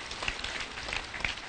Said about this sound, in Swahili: Mpigieni makofi mzuri